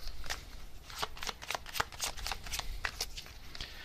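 Tarot cards are shuffled by hand, a rapid run of crisp riffling flicks close up, with no talk.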